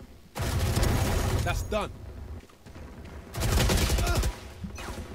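Heavy automatic gunfire from a bigger gun in a video game, in two loud sustained bursts separated by a short pause, with a voice speaking briefly between them.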